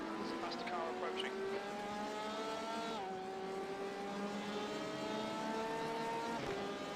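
Race car engine droning in the iRacing video game during the 24 Hours of Daytona, a steady high whine that drops in pitch at one point as a faster car approaches, fairly quiet.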